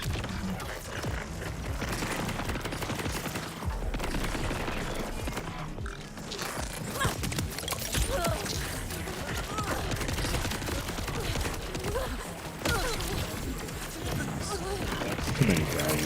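Pistol fire in the video game Borderlands 4 crackles in quick, uneven bursts amid clanking mechanical game sounds, with a voice talking throughout.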